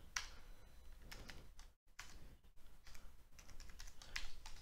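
Someone types a password on a computer keyboard, with a steady run of quick, close key clicks and a brief pause partway through, and no one speaking.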